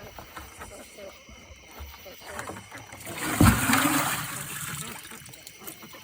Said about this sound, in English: I gotta dump this dirty duck water if I can do it one-handed.